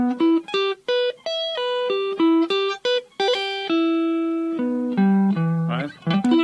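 Guitar sweep picking with a quick double-time hammer-on and pull-off: a rapid run of clean, bright single notes, mostly short and separated, with a few held longer, played close and alone.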